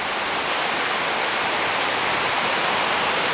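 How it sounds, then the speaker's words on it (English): A flooded creek, Ridley Creek, rushes past in a loud, steady, unbroken roar of turbulent water with no pauses. "The creek practically flooded to the brim."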